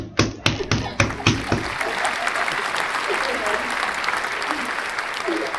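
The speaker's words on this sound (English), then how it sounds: "Who in the hell is that clapping?" A few sharp, spaced hand claps ring out close by during a live radio show, then spread into a broader burst of applause with people talking over it.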